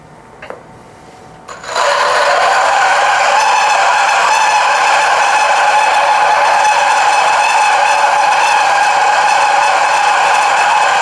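A quiet start with a small click, then a CF64V coffee grinder kicks in grinding about 18 grams of coffee beans at low RPM, its loud, steady high-pitched whir continuing unbroken to the end.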